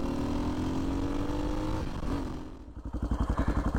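A 1992 Yamaha XT 600 motorcycle with a LeoVince X3 exhaust, its baffle removed, runs nearby with a rough engine drone. The note drops and settles into a rapid, loud, thumping idle pulse.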